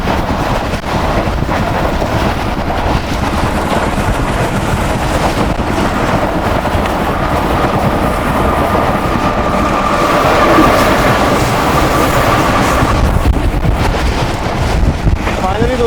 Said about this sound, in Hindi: हमारी ट्रेन की स्पीड बहुत ज़्यादा तेज़ है।